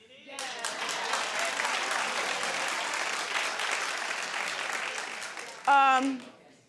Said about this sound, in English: clap if you think it's out of order that Puffy posted